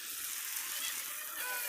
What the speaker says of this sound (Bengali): চিংড়ি মাছটা দিয়ে এখন ভালো করে একটু লাগিয়ে চড়িয়ে নিচ্ছি